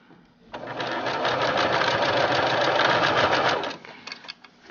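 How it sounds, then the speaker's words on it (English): A sewing machine runs in one continuous burst of about three seconds, stitching a hoodie seam at the 5/8 line, with a rapid steady needle rhythm and faint handling noise after it stops. "now we're going to sew all the way around, keeping it as straight as we can"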